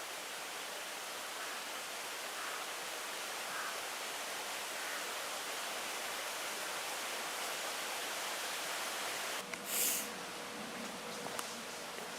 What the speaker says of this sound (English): Source of all the noise, River Cam.